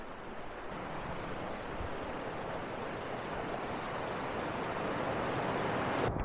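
River water rushes along a waterfall walk in the Brecon Beacons, South Wales, giving a steady, broad roar that holds even throughout, with light wind buffeting and no voices.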